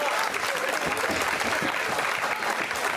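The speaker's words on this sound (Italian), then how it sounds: "io volevo fare un grande applauso a chi ha presentato questa serata" Dense, sustained applause from a crowd at a folk festival concert in Collegno, honoring the evening's presenter, steady and close with no pause.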